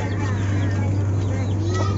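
Red junglefowl (labuyo) cluck softly over a steady low hum and background noise, with the calls faint and somewhat buried throughout.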